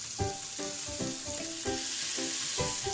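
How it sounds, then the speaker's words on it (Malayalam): Chopped garlic and ginger sizzle in hot oil for a keto egg pasta masala, a loud continuous frying hiss broken by regular stirring scrapes about every half second. "ചൂടായ എണ്ണയിലേക്ക് വെളുത്തുള്ളിയും ഇഞ്ചിയും അരിഞ്ഞത് ചേർത്ത് കൊടുക്കാം"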